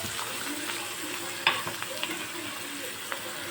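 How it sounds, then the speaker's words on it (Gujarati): Two finely chopped onions frying in a pan until golden brown, a steady close sizzle with a few stirring scrapes and clicks, quiet and with no talking. "હવે આપણે ડુંગળીને ગોલ્ડન બ્રાઉન સુધી એને કૂક કરી લઈશું"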